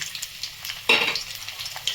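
Chopped onion drops into hot mustard oil in a wok, bursting into a loud sizzle partway through, then settling into a steady frying crackle with light stirring scrapes.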